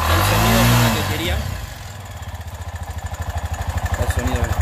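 Bajaj Torito three-wheeler with a new four-stroke muffler settles from a loud rev into a rhythmic, pulsing idle, each exhaust beat clearly distinct, close and steady, under faint background speech.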